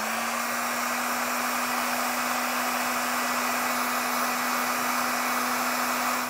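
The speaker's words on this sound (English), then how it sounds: "we can use our heat source and shrink up the connectors." Steady, loud blowing hiss of a heat gun running continuously, shrinking heat-shrink electrical wire connectors during a trailer supplemental braking system installation, with a constant motor hum throughout and no talking.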